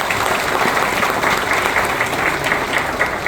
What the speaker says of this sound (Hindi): उन सब के लिए जोड़ा तालियां हो जाए करें